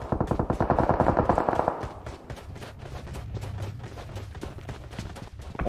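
Rapid automatic gunfire in PUBG Mobile rattles loud and close for about two seconds, followed by sparser distant shots and in-game footsteps with a low rumble underneath.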